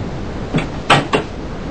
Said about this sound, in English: We're hearing more of those doors activated.